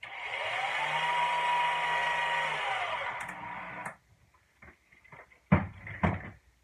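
A power screwdriver drives a screw into pre-drilled wood on a dory, a whirring motor run of about four seconds followed by a few sharp knocks and clicks from handling.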